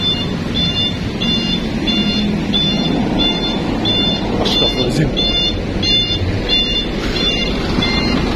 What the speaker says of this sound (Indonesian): Ternyata ada dam truk yang mundur